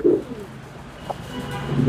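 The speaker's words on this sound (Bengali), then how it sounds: "নরের ডাকটা দেখা একটু ভালোভাবে" A male pigeon at a pigeon market gives soft, throaty coos, with one short coo at the start and a longer one toward the end, close and moderately loud with no speech.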